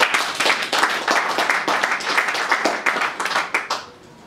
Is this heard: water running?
no